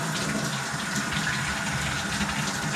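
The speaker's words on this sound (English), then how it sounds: "and then we turn on our water" Water runs steadily from a tap in a continuous, even gush for a few seconds, with no voices over it.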